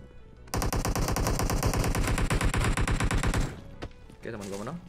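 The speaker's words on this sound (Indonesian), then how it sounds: "Nice, temen gue nembak orang." Automatic gunfire in the mobile battle royale game PUBG Mobile, a rapid, steady stream of loud shots that runs for about three seconds and then stops abruptly, with a voice speaking briefly afterward.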